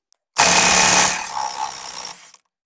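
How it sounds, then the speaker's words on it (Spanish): An impact wrench with a 7/16 socket spins off a nut on a Volkswagen Beetle brake drum in one loud, close burst of rattling whir lasting under two seconds, fading to a lighter buzz before cutting out. "vamos a usar un dado una 716 para quitar esta tuerca. Y vamos a utilizar pistola de impacto."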